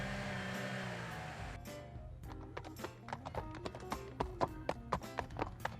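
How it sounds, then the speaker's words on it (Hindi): A horse-drawn carriage passes with a steady run of distinct hoof clip-clops growing clearer toward the end, following a brief sustained tonal sound at the start. "कैरेज, घोड़ा गाड़ी।"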